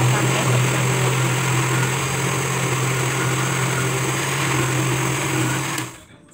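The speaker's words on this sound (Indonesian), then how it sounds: "Lanjut blender lagi sampai bercampur." A blender drones loudly and evenly at full speed close by, mixing eggs and vanilla into a smooth batter, before cutting off abruptly near the end.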